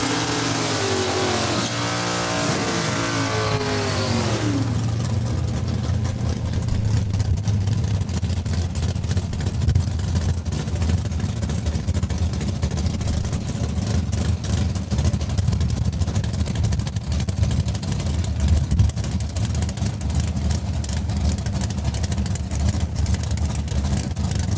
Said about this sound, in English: He'll wait as Matt Hendry will get the head start with the Barracuda.